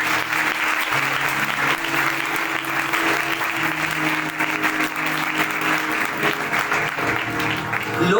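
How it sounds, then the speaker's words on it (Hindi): A congregation at a revival meeting in Iqbal Town, Islamabad claps loudly and continuously, the crowded applause sustained throughout with steady tones underneath. "बजा दो तालियां"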